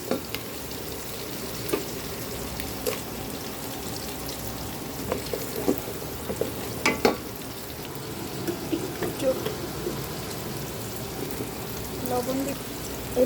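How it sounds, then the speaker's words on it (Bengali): A quiet, steady sizzle of onions frying in oil runs throughout, with occasional light clinks and stirring sounds. "আগে পেঁয়াজটা ভালো করে ভাজা হোক"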